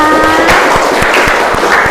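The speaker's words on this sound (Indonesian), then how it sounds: "tepuk tangan untuk kita semua" Classroom applause at the end of an economics lesson, a loud steady patter of clapping with a few distinct sharp claps standing out and no one speaking over it.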